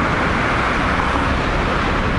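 Cars roar steadily past a bicycle touring a road between Amakusa and Hitoyoshi in Japan, the loud traffic noise blending with headwind buffeting and no voices.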